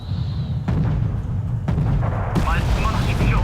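Artillery fire in the Wargame Red Dragon video game, set in a second Korean War campaign: several loud booming blasts in quick succession, each followed by rumbling, with voices talking underneath.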